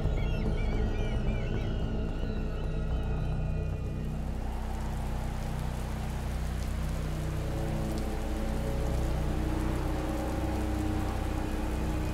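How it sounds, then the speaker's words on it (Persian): Heavy rain pours down steadily, a dense, loud hiss of drops that stays constant throughout with a low rumbling undertone and no voices. "الله بارانی فرستاد که برای مسلمانان لطیف و خنک و مایه آرامش بود و برای مشرکین طوفانی سخت و طاقت فرسا"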